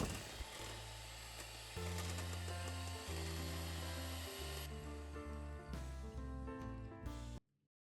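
Electric hand mixer beating melted, cooled butter with powdered sugar at high speed, a loud continuous motor whine that shifts pitch a few times before cutting off abruptly.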